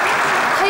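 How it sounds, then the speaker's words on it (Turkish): An audience claps in a steady wash of applause, close and continuous for the short span, with the crowd's noise running alongside. "Alkışlamayın, zor duruyoruz."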